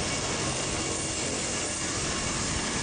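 A continuous broadband roar of an ambulance helicopter engine, loud and steady throughout without pause.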